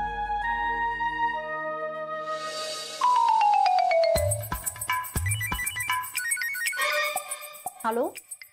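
A phone ringtone rings in a Marathi TV serial scene, its repeating melodic tones and chime-like bursts carrying on clearly through the clip, loud and up close, with a voice speaking briefly.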